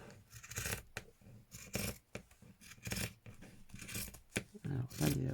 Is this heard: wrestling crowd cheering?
no